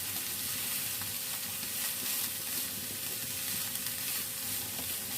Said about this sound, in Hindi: देखिए 1 मिनट के लिए हमने सब्ज़ी को फ्राई कर लिया है